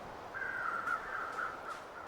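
Crows caw in The Long Dark's snowy wilderness, a drawn-out harsh call followed by a few shorter caws, moderately distant and alone.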